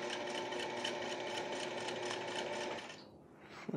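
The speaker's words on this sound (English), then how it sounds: "I'm going to sew down the edges." A sewing machine stitches down the edges of a Cuban vacation shirt collar in a steady, close, continuous run that stops near the end, followed by brief handling noises.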